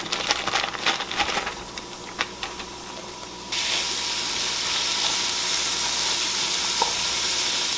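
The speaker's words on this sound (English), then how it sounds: "we're just going to cook our onions, garlic, and our green pepper, which is still frozen a bit." Onions, garlic and still partly frozen green pepper fry in oil in a pot for venison chili, with scattered clatter and sizzling that jumps to a loud, steady hiss halfway through, close and without talk.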